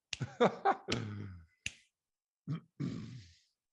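Fingers click in a quiet room, several sharp snaps, some in quick pairs and others spaced apart by pauses, close and crisp with nothing else heard.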